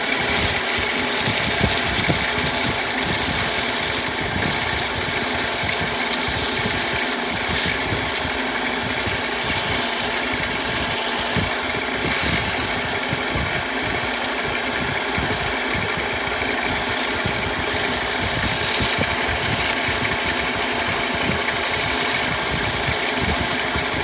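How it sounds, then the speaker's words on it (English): A power sander grinds steadily on a handmade ring, giving a continuous motor whine with a dense buzzing rasp. It stays loud and constant throughout, with no talk over it. "it's got to sand a little bit longer"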